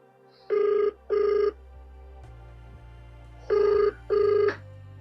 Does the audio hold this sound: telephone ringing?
yes